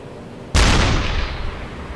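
A deck gun in the submarine game UBOAT fires a single loud, booming round at a sinking ship, a sudden blast followed by a long rumbling decay.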